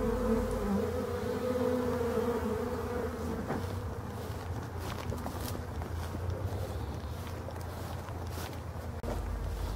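A honeybee colony at a hive hums outdoors in a steady, dense buzz, with single bees passing close now and then over a low rumble, and no voices.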